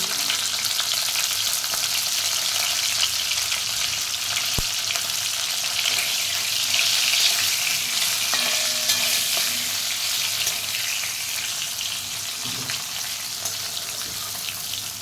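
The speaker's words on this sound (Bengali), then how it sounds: "এইভাবে একটু নাড়াচাড়া করে চাপা দিয়ে দেবো।" Bitter gourd fries in a pan while being stirred, a constant close sizzle overlaid with scraping and occasional utensil knocks throughout.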